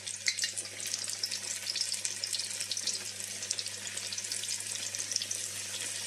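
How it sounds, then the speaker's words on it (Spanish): Floured fish pieces sizzling in hot oil in a frying pan, a continuous steady crackle and hiss at moderate level with no talking. "coger nuestro pescado, golpearle un poquito para quitar el exceso de harina e ir añadiéndolo a la sartén"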